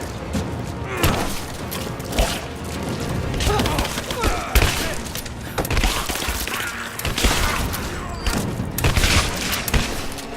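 Sustained gunfire in Rise of the Tomb Raider, a loud ragged fusillade of shots and thuds throughout, with shouted voices mixed into the chaotic firefight.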